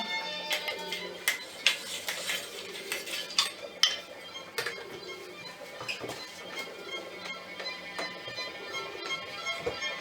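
Clinks, ticks and light scraping of a metal lid being screwed onto a glass jar of preserved tomatoes, irregular and close, with brief quiet gaps between the sharper knocks.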